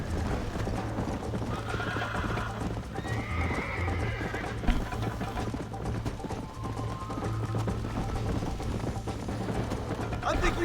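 Horse hooves clip-clop steadily in the video game Red Dead Redemption, with occasional neighs and whinnies from the horse, while a voice talks over the rhythmic hoofbeats.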